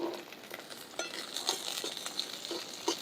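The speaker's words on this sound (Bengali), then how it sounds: "মটরশুঁটিগুলো বেশ হালকা করে নেড়েচেড়ে নিয়েছি, মানে ভেজে নিয়েছি একটু" Soft sizzling of peas frying in a pan, with light scraping and clicking as they are stirred, close and fairly quiet.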